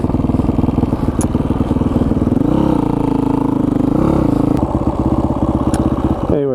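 A supermoto motorcycle rides a dirt road, its engine loud and close with steady revving, gear-change pitch shifts and rattling clatter throughout, briefly rising in pitch before settling back.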